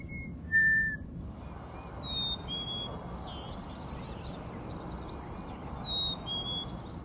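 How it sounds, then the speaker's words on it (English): An eastern phoebe sings its short, whistled song several times against a steady outdoor hiss, the clear phrases fairly close and spaced a few seconds apart. "This is the phoebe that you hear so often"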